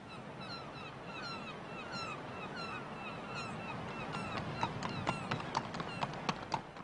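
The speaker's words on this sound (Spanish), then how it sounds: "Napoleón pasó aquellos días montando a caballo, explorando los escasos recursos de Elba" A horse ridden on the island of Elba clops along in a steady rhythm, its hoofbeats growing sharper and more distinct midway, over a hissing outdoor background with faint honking bird calls.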